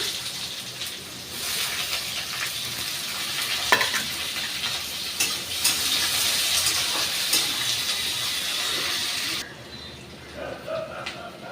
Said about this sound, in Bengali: তো পেঁয়াজটা অল্প ভাজা ভাজা গেছে